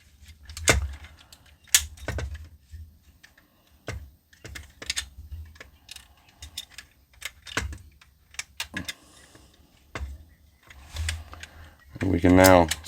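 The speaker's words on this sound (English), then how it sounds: "This will now tab into the top of the foot." Parts of a plastic Magic Square MS-03 Heavy Gunner transforming robot toy are handled and tabbed together, making sharp clicks and snaps at irregular intervals. A rattling clatter comes near the end, and a voice speaks in between.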